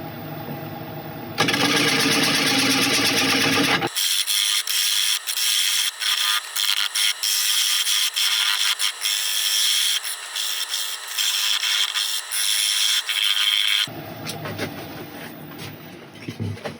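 A woodturning lathe cuts away the tenon on a walnut bowl, a loud continuous scraping rasp of tool on spinning wood that starts suddenly, runs steadily with small fluctuations, then stops, with broadband machine noise around it.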